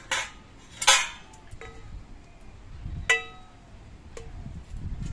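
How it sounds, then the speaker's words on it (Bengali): Utensils scrape and clink against a pot while potatoes are lifted out of cooked rice, several sharp metallic knocks spaced a second or two apart, close by and fairly loud. "ভাতের মধ্যে থেকে আলুগুলো তুলে নিচ্ছি"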